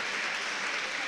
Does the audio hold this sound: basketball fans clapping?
yes